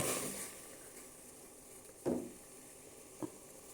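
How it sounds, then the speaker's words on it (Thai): Water with kaffir lime leaves boils vigorously in a pot, bubbling and hissing softly in a quiet, steady simmer broken by two brief knocks. "น้ำเดือดจัดแล้วครับ"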